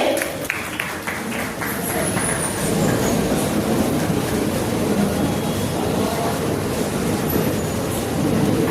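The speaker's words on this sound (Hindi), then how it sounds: "जोरदार तालियों से सर का स्वागत करें।" Audience at a school teacher felicitation ceremony gives a sustained, loud round of clapping to welcome a guest, a dense continuous applause with a noisy hall ambience.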